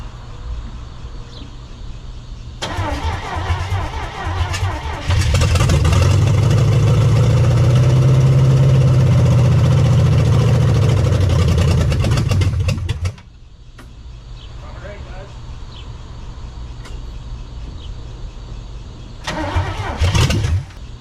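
A Chevy Nova engine that has sat for 35 years cranks loudly and steadily for several seconds with fuel poured down it, the starter churning without catching, then falls back to a lower mechanical hum before a brief second crank.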